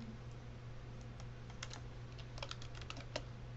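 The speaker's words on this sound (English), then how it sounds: "you can type quiz" Keys clacking in a quiet run of typing on a computer keyboard while entering spreadsheet column headings, steady soft taps over a low background hum, no one speaking.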